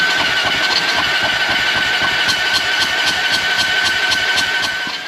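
A Honda Rancher 350 ATV with lost compression runs at a steady, loud, close idle, its rapid chugging pulses continuous throughout.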